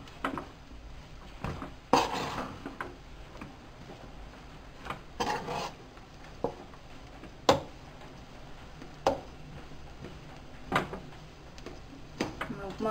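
A spatula stirs and presses rava upma in a pan, giving sparse scrapes, taps and clinks against the metal over a low background hum.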